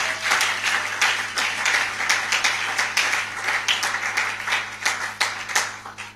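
A church congregation applauding during a Sunday service, with a steady, dense wash of many hands clapping throughout, fairly loud and continuous with slight surges, no speech over it.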